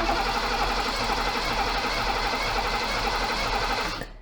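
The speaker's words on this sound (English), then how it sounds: "you can remotely run the starter motor" BMW 535i E28 Alpina starter motor cranking steadily, operated remotely from beside the engine bay; a continuous close, loud mechanical whirring that holds for about four seconds and then cuts off.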